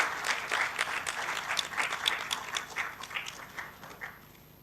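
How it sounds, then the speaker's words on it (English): Applause from an award ceremony audience for the second-prize team at an ITU-T AI-native telecom networks event: dense, sustained clapping from many hands that holds steady, then thins out toward the end. "Please give team SNR a huge round of applause."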